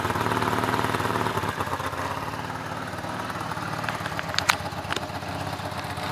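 A Ford Escort Hobby 1.0 CHT engine with a Weber 460 carburettor idles at lowered rpm, a steady close rattling putter with a few sharp clicks near the end.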